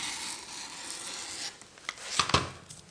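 A blade slicing quilting fabric along a ruler to cut a strip: a soft, close rasping rub that ends in a few quick scraping strokes.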